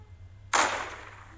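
Pistol gunshot in the video game Murder Game Portable: a single sharp, bright shot with a quick attack and a short fading tail, fairly close and alone.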